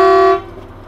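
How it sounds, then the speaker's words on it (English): A single loud, deep horn blast from a semi truck, cut off abruptly after a fraction of a second, leaving a low rumble. "do you think we should honk the horn now?"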